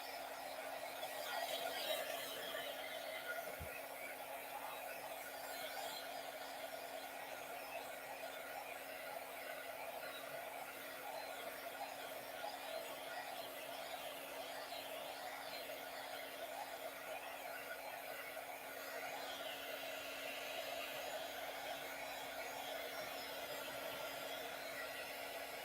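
A hair dryer blows steadily to dry a painting, a continuous even whir with a faint steady hum underneath, close and fairly quiet, with no talking.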